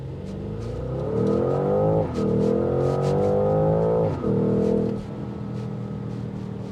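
A 2025 Porsche Cayenne GTS Coupe accelerates hard from 0 to 60, its engine rising loudly through the gears with two brief dips at the shifts before settling into a steadier cruise, heard from inside the car.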